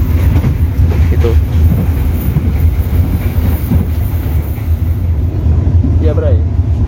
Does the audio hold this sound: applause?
no